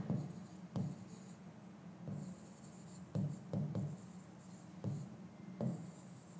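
Chalk or marker writing on a board during a physics lesson: short scratchy strokes come in spaced bursts, close but quiet, with no speech over them.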